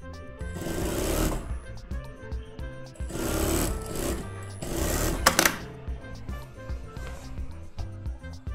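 A sewing machine stitches a modern shirt, three broad bursts of whirring run of a second or two each, separated by short pauses, fairly close and steady with faint handling noise between runs.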